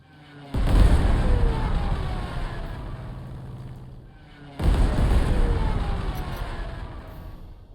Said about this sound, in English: We are going to send Stuka on this artillery.